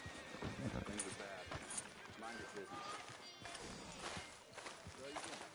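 Horse hooves clop along with occasional whinnies in the western game Red Dead Redemption 2, steady moderate hoofbeats running beneath people talking throughout.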